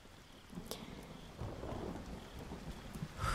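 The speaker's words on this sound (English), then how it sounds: "It wasn't supposed to rain this weekend" Rain falls steadily through a stormy outdoor scene in an audio drama, with a sharp crack of thunder early on and a louder rumble building at the end, no voices.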